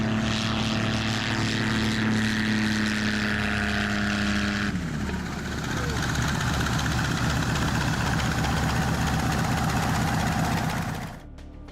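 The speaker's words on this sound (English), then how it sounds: "A Robinson R-44 helicopter was forced to make an emergency landing on the rooftop of a building in Guatemala City on June 12, 2025." A Robinson R-44 helicopter during an emergency rooftop landing in Guatemala City, its engine and rotor droning loud and steady, the pitch dropping midway as it settles, then a rougher, churning whine until it cuts off sharply at the end.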